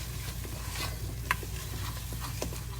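A spoon stirs a clumpy butter-and-flour roux over low heat, making soft scraping and light clicks over a faint steady sizzle and a low background hum, quiet and close.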